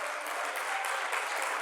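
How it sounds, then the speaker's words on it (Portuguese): A church congregation applauds loudly and continuously, a dense wash of clapping with no pauses. "Forte aplauso ao Senhor."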